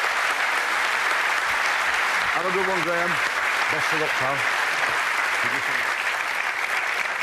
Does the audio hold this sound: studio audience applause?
yes